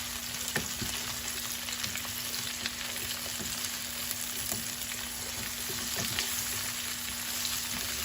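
Leeks fry in a pot with a steady, dense sizzle, and faint scrapes and taps come through as they are stirred. The frying stays at an even level throughout, close up, with no talking.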